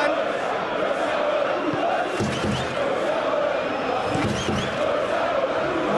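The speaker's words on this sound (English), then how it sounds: "Well, the crowd clearly like what they just saw." A large football stadium crowd at a Champions League match between AC Milan and Bayer Leverkusen roars steadily, a dense, continuous wash of cheering and chanting that rises slightly midway.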